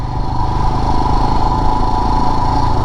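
A Royal Enfield Himalayan BS6 motorcycle engine drones loudly and steadily while riding, a close, continuous mid-pitched thrum with a constant rumble and no talking.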